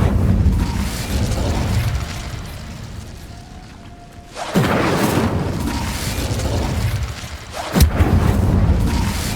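Fire spell cast in Hogwarts Legacy combat, giving loud whooshing bursts and booming impacts, one around the midpoint and another sharper blast near the end over a steady rumbling game background.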